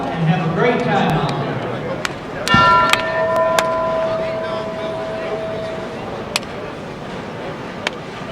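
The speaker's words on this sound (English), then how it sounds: "And there's the bell." A bell signals the start of play at the 2014 USBC Open Championships bowling tournament, giving a struck ring whose clear tone hangs and fades over a few seconds against the steady background noise of the bowling centre.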